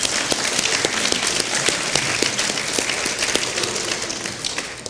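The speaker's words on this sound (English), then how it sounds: "Let's clap." A congregation at the Unitarian Universalist Church of Tampa breaks into steady, dense applause during a Sunday service, many hands clapping at once in a full, even wash that holds for the whole stretch.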